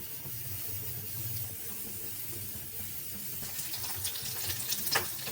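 Tempering spices for Andhra-style pappu charu fry over high heat in a pan, giving a soft, steady sizzle that grows crackly and spatters more toward the end.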